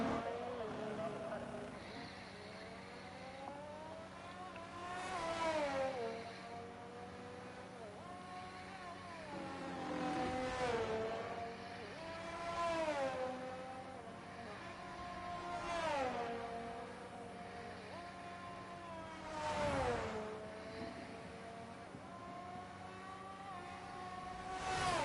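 A Red Bull Formula 1 car laps the Saudi Arabia street circuit in an F1 esports race, its high-pitched engine repeatedly climbing through upshifts and dropping at braking zones in a steady rhythm, while a commentator talks quietly over it.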